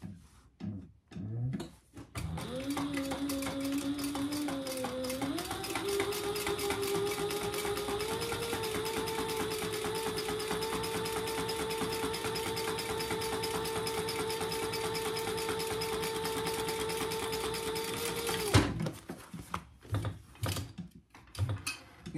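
Sewing machine top stitching a handbag seam with a 1/8 inch seam allowance, running as one steady, continuous stitching drone for about sixteen seconds after a few short starts, then stopping with a few clicks.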